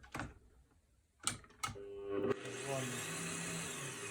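Bosch PBD 40 pillar drill started at its lowest speed setting, about 210 RPM, after a few sharp clicks and knocks, then a steady motor whine with a faint rising hum, quiet and close.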